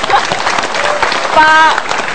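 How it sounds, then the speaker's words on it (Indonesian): Studio audience applause on an Indonesian political talk show, a steady crowd clapping that fills the clip, with voices and a brief whistle-like tone mixed in. "Boleh tepuk tangan dong buat Pak Dahlan."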